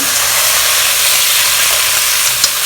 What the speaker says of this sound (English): Now we'll add in 2 stalks of spring onion.